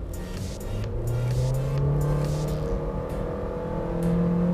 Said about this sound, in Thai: เหยียบเบรกเอาไว้นิดหน่อยนะครับแล้วก็เท้าขวาเร่งเครื่อง